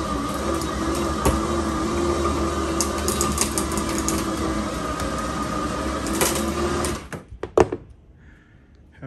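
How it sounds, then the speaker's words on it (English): A winch drones steadily while pulling a 1965 Jaguar E-Type OTS roadster project car in, a continuous close mechanical whir that stops abruptly near the end, followed by a few clanks. "Okay, we're winching her in."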